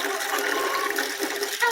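Fresh water pours for a flock of hens at an eco-dome homestead, a steady close splashing and trickling stream running continuously through the moment without pause.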